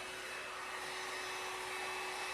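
A Launch blow dryer runs steadily while drying hair, giving a continuous, fairly faint airy whir with a constant motor hum and no talking.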